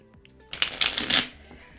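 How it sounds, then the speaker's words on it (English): A deck of playing cards is riffle shuffled once, close and crisp, a quick burst of rapid fluttering snaps lasting under a second. "So let's get shuffled up here."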